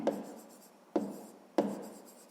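Pen or pencil writing on paper while solving a sixth-grade math exercise, three short scratchy strokes, each starting sharply and fading, heard up close with no talking.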